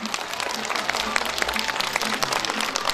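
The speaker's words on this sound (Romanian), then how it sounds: "Chiar merită aplauze acești frumoși oameni." An audience claps at an outdoor village festival celebration in Mărginea, a dense steady patter of many hands over a low crowd murmur, with a voice faintly audible underneath.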